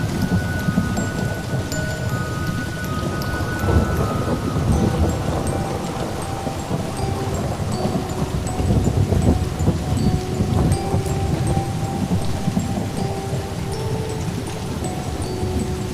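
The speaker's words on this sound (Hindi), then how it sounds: "अब मुझे लगता है बहुत जोर की बारिश भी आने वाली है।" Heavy cartoon rain pours nonstop with rolling thunder rumbling underneath, loud and dense for the whole stretch, with no voices heard.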